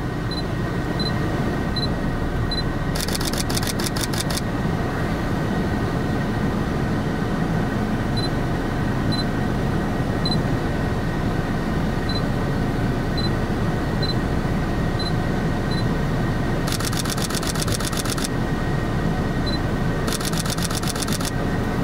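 Sony Alpha 7 IV mirrorless camera firing three rapid shutter bursts, each a quick clattering run of clicks, heard over the steady rumble of a moving car with the camera fixed on a monopod mount.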